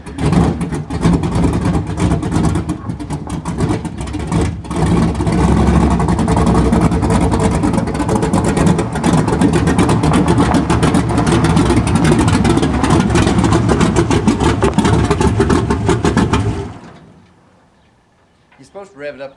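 A race car engine runs loud and close, its throaty drone held steady with a few rises as it revs, then dies away near the end as voices talk over it.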